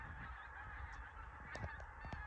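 Pink-footed geese honking over a marsh, hundreds calling at once in a steady distant clamour, with a few nearer honks standing out toward the end.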